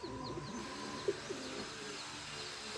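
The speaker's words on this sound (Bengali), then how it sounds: "একটা কবুতর আর একটা কবুতরকে খাইয়ে দিচ্ছে মানে এইটা ওইটার বাচ্চা" Pigeons cooing softly at a nest while one feeds its chick, with a few low coos and faint chirps over steady background noise, no talk.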